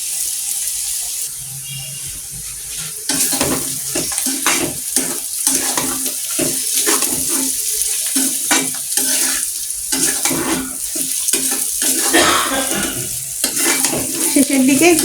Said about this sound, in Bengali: লাল করে ভেজে নিতে হবে।